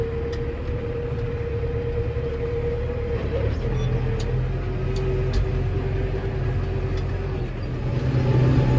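A New Holland T6030 tractor tows an 11-ton loaded trailer along a road, its engine giving a steady, loud diesel drone with a low rumble throughout, and a few faint clinks from the rig.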